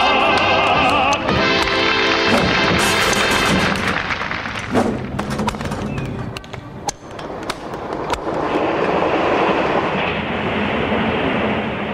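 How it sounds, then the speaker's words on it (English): A Japanese high-speed train from 1964 runs on rails with loud, continuous rushing noise and rhythmic clickety-clack from the wheels, close and dominant, shifting in intensity as the cars pass. "the opening of the world's first high-speed railway"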